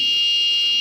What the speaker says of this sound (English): If some person pass through a door, alarm will turn on